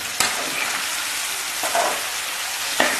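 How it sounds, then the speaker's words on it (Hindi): Potatoes fry in a pan with chili, tomato and salt, giving a steady, dense sizzle throughout, with three brief stirring scrapes or knocks breaking through, close and fairly loud, no voices. "मैं इसमें मिर्च और टमाटर डाल दूंगी और थोड़ा सा भूनूंगी"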